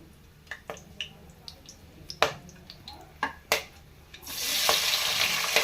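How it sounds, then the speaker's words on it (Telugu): Whole spices such as star anise and mace fry with onions in a pot for mutton paya curry. A few light clinks come first, then a loud, close, steady sizzle surges in and holds. "ఆనియన్స్ కూడా బాగా కొంచెం గోల్డ్ కలర్లోకి వచ్చే వరకు ఫ్రై చేసుకుందాం."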